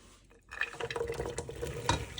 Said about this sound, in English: add our potatoes, carrots, and celery. Go ahead and dump those in the pot